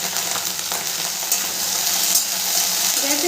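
Okra pieces dusted with a pinch of turmeric fry over a medium gas flame, giving a loud, close, continuous sizzle as they are turned and stirred in the pan, with no voices.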